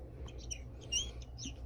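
Potaroma chirping bird cat toy giving off short, high electronic tweets and chirps in a quick irregular run, faint over a low steady background hum.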